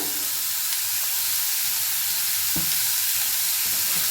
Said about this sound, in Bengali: আপনারা দেখলেন আমি কিন্তু ডাইরেক্ট গ্রেট করা ফুলকপিটা কড়ার মধ্যে দিয়ে দিলাম